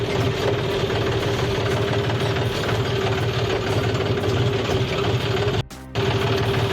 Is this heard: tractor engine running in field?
yes